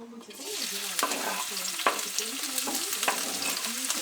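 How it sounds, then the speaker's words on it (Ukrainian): Chopped onions fry and sizzle in hot oil for risotto, a steady crackling hiss with intermittent stirring clicks and scrapes, close and continuous with no voices. "Поки у нас жариться цибулька"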